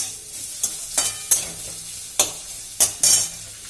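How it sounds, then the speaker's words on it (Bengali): Onion frying in a pan for a dosa filling, a low sizzle under repeated sharp scraping strokes of a spatula stirring, about seven distinct bursts at an uneven pace. "পেঁয়াজটা ভাজতে দিয়ে দিয়েছি"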